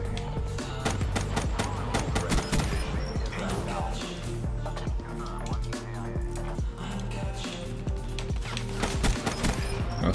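Gunfire in a first-person shooter video game, rapid bursts of loud shots in dense rhythmic volleys with clattering impacts, continuous through the clip over game sound.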